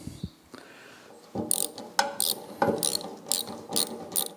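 A ratchet loosens small 8 mm nuts on a David Brown 990 tractor, starting as faint handling sounds and then clicking in quick, close bursts of sharp pawl ticks.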